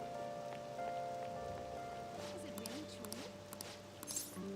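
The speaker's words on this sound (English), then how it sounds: "this rain is so annoying" Steady rainfall in the video game Persona 5 Royal hisses over sustained musical tones, with a few brief louder patters and splashes near the end.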